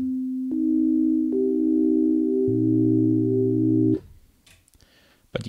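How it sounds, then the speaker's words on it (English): A pure sine wave from a UDO Super 6 synthesizer, sustained, clean steady tones stepping up in pitch a few times over four seconds, then cut off, leaving faint room noise and a few soft clicks. "you can go and turn on just a sine wave here"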